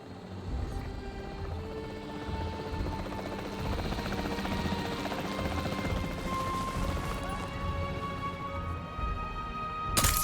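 Capture team helicopter flying in the Jurassic World Evolution 3 video game, a continuous rotor chop and engine whine sustained at steady loudness for about ten seconds, with speech faintly mixed in beneath.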